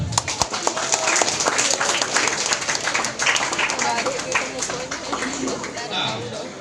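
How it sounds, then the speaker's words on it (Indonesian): A crowd claps steadily throughout, dense and continuous, with a few voices mixed into the applause. "Oke, tepuk tangan."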